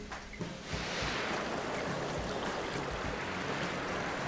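A waterfall effect from the theme-park building game Planet Coaster gives a steady, close rush of falling water that swells in within the first second and then holds even and full.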